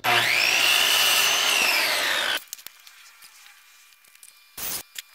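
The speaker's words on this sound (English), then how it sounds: "I'm gonna screw it in from the opposite side." A power drill drives a 1 1/4 inch screw into a wooden sign in one whirring burst of a couple of seconds, followed by quiet handling clicks and a short second spin.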